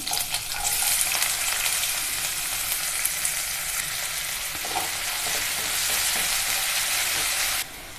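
Onions sizzle loudly in hot oil, a dense continuous crackle and hiss with occasional stirring scrapes, no voices.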